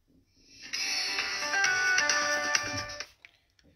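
Phone ringtone from incoming calls, a bright electronic melody playing for a little over two seconds at moderate volume, then cutting off, heard alone without talk.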